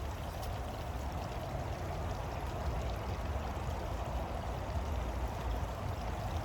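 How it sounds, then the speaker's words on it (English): Water pressed through a portable survival water filter, a steady close stream pouring at even volume throughout without pause. "And the water filters through there."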